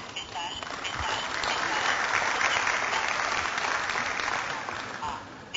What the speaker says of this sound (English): perhaps you should give all of yourselves a round of applause